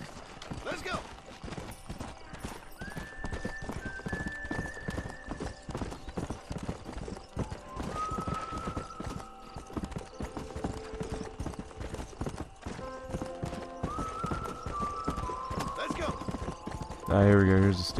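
Horse hooves clip-clop steadily in Red Dead Redemption, a continuous rhythmic trot with a short whinny near the end, while someone talks over it.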